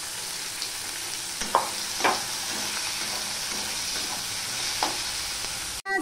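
Chopped onion, green chili and garlic frying in hot oil with black cumin, giving a steady, close sizzle broken by a few light scrapes of stirring.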